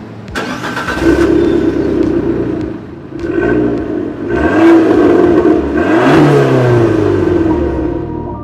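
Small Fiat 500 city car engine pulling away on the road, revving and accelerating through several gear changes, a close, steady mid-pitched drone with rises and dips, no talk.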